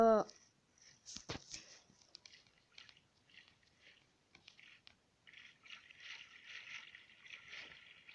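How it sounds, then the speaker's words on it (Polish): Boat gliding over water in the video game Minecraft, a soft, steady paddling and splashing wash that swells toward the end, with a brief sharp sound near the start. "Nie umiem sterować łódką."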